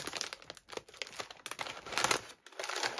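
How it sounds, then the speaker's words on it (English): Crinkling of bacon-flavored popcorn snack packaging, with irregular bursts of crackly plastic rustling that swell and fade over a few seconds, close up. "Sorry for the crinkling."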